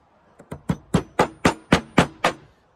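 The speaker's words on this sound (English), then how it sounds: "I'm just gonna hammer it in." Nine sharp metallic taps at a steady rhythm, close and clear, each ringing briefly before the next strike, hammering a part into a turbocharger.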